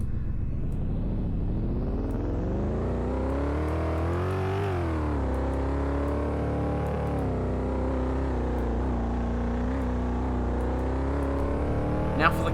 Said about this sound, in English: And here's what it sounds like to drive.